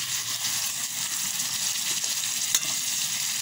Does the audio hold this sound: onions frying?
yes